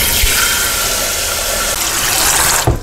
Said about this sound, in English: 6 cups of cold water going in